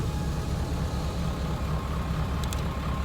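A 7.3 Powerstroke diesel truck engine sits at low idle, a steady, even low rumble running continuously with no voices over it.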